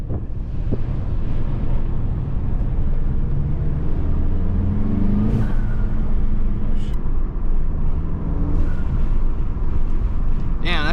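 A Mk8 Volkswagen GTI engine with a K&N drop-in intake filter drones loudly and steadily with a breathy intake roar, overlaid by wind buffeting, as though recorded from inside or beside the moving car.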